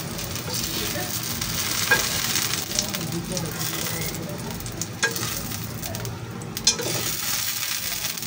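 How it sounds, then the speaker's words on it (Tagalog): Ingredients for Bicol Express sauté in a pan with a steady close sizzle and occasional crackles and stirring clatter. Background talk runs faintly underneath. "magpiprito na tayo or magigisa uli tayo ng ating mga ingredients"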